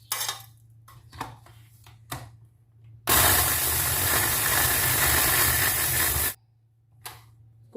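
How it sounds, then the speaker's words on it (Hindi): An electric grinder whirs loudly for about three seconds as it grinds roasted chaat masala spices, a steady dense roar that starts and stops abruptly between quieter kitchen handling noises. "मसाला सारा ग्राइंडर में डाल लेंगे और इसको 2-3 दफ़ा करके पीस लेंगे।"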